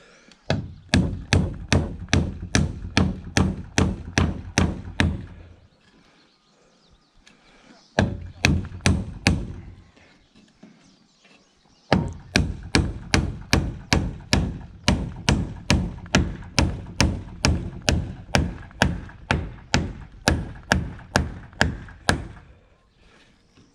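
A hammer drives nails into wood during a saloon build, striking in steady rapid bursts of loud, sharp blows separated by short pauses.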